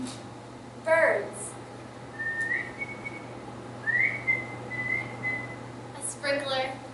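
Someone whistles short rising and sliding birdlike notes, mimicking birdsong, with a few breathy vocal sounds around them.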